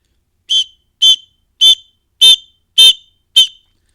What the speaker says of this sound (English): they are blowing the whistle, that is a simulation of gunfire